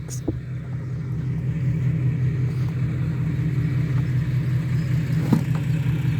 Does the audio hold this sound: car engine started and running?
yes